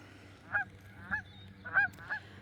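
Geese on water honk in four short bursts at a moderate distance over a low steady background hum, with quiet pauses between calls.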